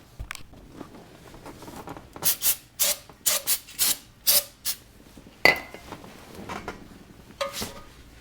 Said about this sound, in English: take some brake parts cleaner and a rag and clean the brake disc